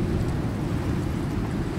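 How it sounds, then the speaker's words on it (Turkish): Storm weather in the survival game ICARUS: a steady, dense roar of rain and wind with low rumbling, like distant thunder, running evenly throughout with no voices. "Çöldeki fırtına ile buradaki fırtına farklı farklı."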